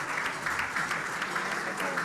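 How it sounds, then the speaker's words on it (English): Audience applause at a hotel-sponsored awards and scholarship luncheon, a steady wash of many hands clapping throughout, dense and continuous with no pauses. "Please, another round of applause for the Hilton team"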